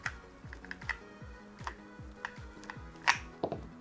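A 1MORE EVO true wireless ANC earbud is set into its magnetic charging case, producing a series of small plastic clicks and taps and then one sharper, louder snap near the end.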